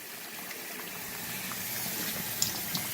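Hose water pouring into a container of coconut bedding brick, a steady gushing fill that grows slightly louder over a few seconds, with faint splashes near the end.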